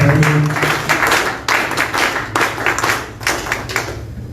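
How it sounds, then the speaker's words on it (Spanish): Audience applause for a guest at a Spanish-language public forum on citizen security, loud bursts of clapping that rise and dip over several seconds, with a low voice or hum underneath at the start. "Un fuerte palmas para ella."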